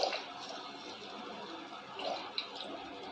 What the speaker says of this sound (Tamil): முன்னாடியே கொஞ்சம் தண்ணி ஊற்றிடலாம்.